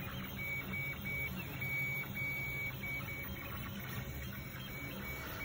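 A 3D printer runs with undried nylon filament, giving a steady mechanical whir and hum with faint high stepper-motor tones, continuous and close by with no talking.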